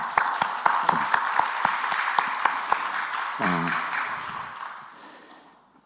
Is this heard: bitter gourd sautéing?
no